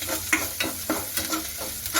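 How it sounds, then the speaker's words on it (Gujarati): Potato and spice mixture for vada pav being stirred in a hot pan, rhythmic scraping strokes about every third of a second over a soft continuous sizzle. "હવે તેને સારી રીતે મિક્સ કરી લઈશું"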